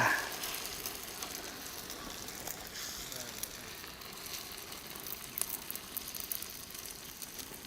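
Omelette batter of beaten eggs and salt sizzles on a hot griddle outdoors beside a well, a continuous broad hiss with faint crackles, fairly soft and steady throughout.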